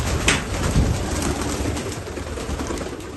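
Spanish rose pigeon cooing softly and repeatedly, close by, over a steady background hiss with no talk.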